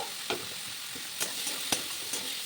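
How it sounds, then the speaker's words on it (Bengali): Prawns frying with onions in a pan: a steady soft sizzle with a few sharp spatula scrapes and taps spaced through the short stretch, no voices. "দিয়ে দিলাম চিংড়ি মাছগুলো চিংড়ি মাছ ভাজা ভাজা হয়ে যাবে পেঁয়াজের সাথে"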